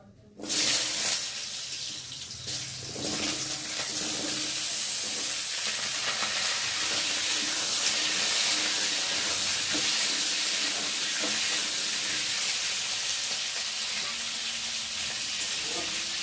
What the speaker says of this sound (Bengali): এখন আমি আলুগুলোকে দিয়ে ভালো করে ভেজে নেব